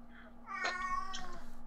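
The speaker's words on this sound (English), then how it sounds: "Other meows." A cat gives a couple of short, high meows, faint and somewhat distant, over a steady low hum.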